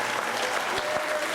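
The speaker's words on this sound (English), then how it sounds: "So a nice round of applause for my wife" A crowd at a Hall of Fame induction ceremony claps steadily for an inductee's wife, a dense, even wash of many hands that holds at the same loudness throughout with no voices over it.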